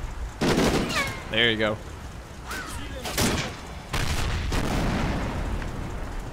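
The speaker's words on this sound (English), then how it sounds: "Man, I love the sound of that MG." Machine gun fire in Combat Mission: Battle for Normandy, loud rattling bursts and booming shots near and far under a man's brief speech and a whistling tone.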